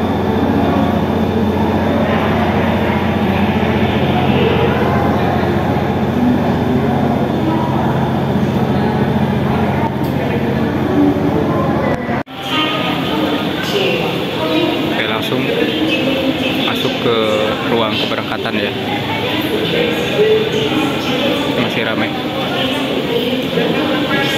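Interior rumble of the Whoosh high-speed train halting at a station among many passengers, a continuous loud rail drone with a brief jolt midway, under people talking.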